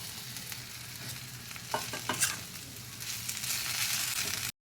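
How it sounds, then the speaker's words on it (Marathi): Okra is stir-fried in onion-garlic masala with a steady, close sizzle and a brief cluster of spatula scrapes and taps partway through, then continuous frying until it cuts off. "थोडंसं परतून घेतल्यानंतर ही भेंडी यामध्ये घालते आहे"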